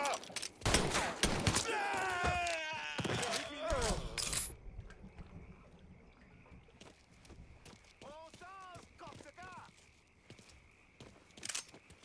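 Bursts of gunfire in the Mafia III video game, several loud shots in the opening seconds followed by sparser distant pops, with game voices and effects mixed in.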